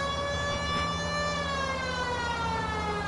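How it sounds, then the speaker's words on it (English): A loud, sustained siren wails with a slowly falling pitch, steady and close, with no talking. "The siren works."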